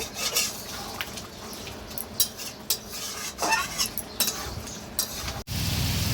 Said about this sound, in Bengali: এবার আঁচটা জোর করে আর একটু ভালো করে নেড়ে নেব।